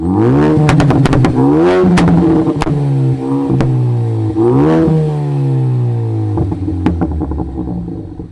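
A stage 3 Ford Focus ST exhaust, its catback removed, revs hard several times up close, rising and falling engine tones with sharp pops and crackles between the pulls.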